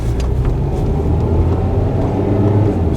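A car engine drones steadily and loudly on a road during a test drive, a continuous low rumble from inside the cabin as it pulls through a gear change, with no voices.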